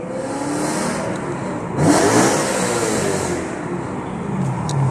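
A BMW M car engine that revs to 8,600 rpm rises in pitch with a loud, close, steady whine and surges sharply midway. No one speaks.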